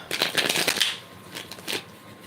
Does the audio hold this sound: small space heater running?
no